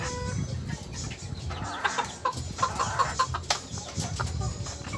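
Sebright bantam chickens cluck softly in a small backyard coop, with short scattered calls over a steady low background hum and no talk.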